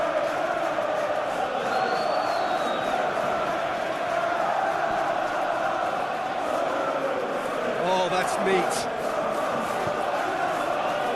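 A simulated stadium crowd at a Premier League football video game match between Bournemouth and Chelsea keeps up a constant roar, with a commentator talking over it and a brief remark from another voice.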